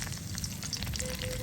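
A bay leaf fries in hot cooking oil in a pan, giving a steady, close sizzle and crackle with no pauses, and no one speaking.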